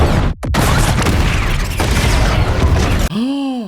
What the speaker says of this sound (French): Il a une bombe!